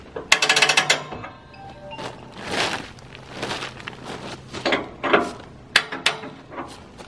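Ratcheting tools on the log rack of a DIY chainsaw mill, a Logosol 660 remake, give bursts of clicking ratchet strokes and metallic knocks with short gaps, close and fairly loud, no speech.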